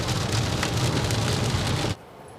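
Rain pattering steadily on the roof and windows of a moving 2022 Maruti Brezza, a dense continuous hiss with faint road rumble beneath, cutting off abruptly near the end.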